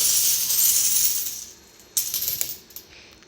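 A soft hiss fades out, then several coins drop and clatter, a bright jingle that settles quickly.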